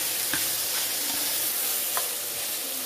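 Pork, potatoes and vegetables seasoned with roasted garlic, black pepper and salt are stirred in a frying pan, giving a steady sizzle with a few soft utensil scrapes and taps, close and without talk.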